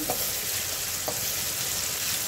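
Tomatoes frying in a pan for a puffed-rice breakfast, giving a steady, dense sizzle throughout, with two brief soft scrapes from stirring.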